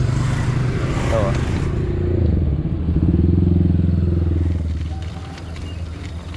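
A motorcycle rides along a narrow road in an industrial estate, its engine loud and close, swelling as it pulls ahead and then easing off, with a rattling clatter throughout.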